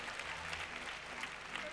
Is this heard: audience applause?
yes